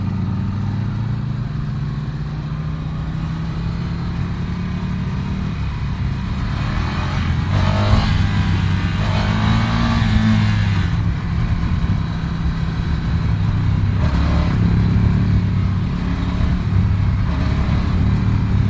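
Ducati Scrambler Desert Sled motorcycle engine accelerating with a steady mid-pitched drone that swells in rpm under the throttle, holding loud and continuous throughout with no talk.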